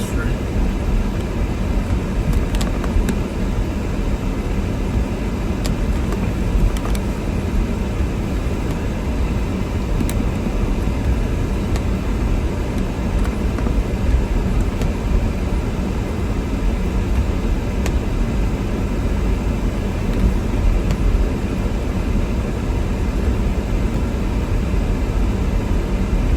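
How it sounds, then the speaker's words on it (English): A car drives through a Boston winter snowstorm in heavy wind and poor visibility, giving a loud, unbroken roar of wind and road noise that stays steady throughout with no voices. "Driving in the snowstorm from work, guys."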